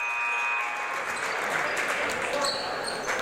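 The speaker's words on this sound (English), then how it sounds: "Freeport's crowd up making noises" Home crowd at a high school boys basketball game in a gym cheering and making noise during free throws, a steady broad roar with clapping and scattered shouts throughout.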